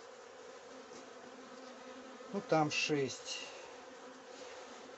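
Bees hum steadily around a hive of a horizontal lounger-style box with 29 frames, a continuous insect drone under a short burst of nearby talk.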